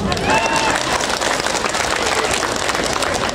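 An audience at a religious lecture in Anjatan, Indramayu claps and cheers in a steady wash of applause, with voices mixed in and a faint whistle-like tone early on.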